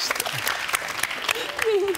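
Children clap and cheer in a brisk burst of applause while an adult voice speaks over it in a lively indoor show setting.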